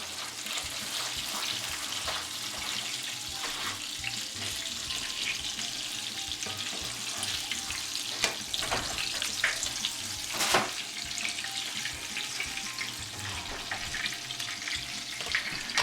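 Salisbury steak patties browning in a hot pan give a steady, close sizzle throughout, with a few brief scrapes and knocks from a spatula.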